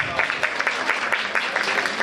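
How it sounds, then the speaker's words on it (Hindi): Audience applause at a music festival closing ceremony in Jalandhar, steady dense clapping with a few sharper individual claps standing out, moderately loud throughout. "कृपया जोरदार तालियों के साथ"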